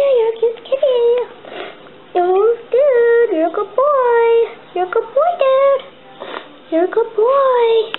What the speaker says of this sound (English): yeah, you're a cute kitty,